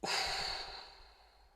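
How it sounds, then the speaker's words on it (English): One slow, soft exhale during a guided breathing exercise, a breathy airy rush that fades out over about a second and a half, close and quiet. "Now breathe out."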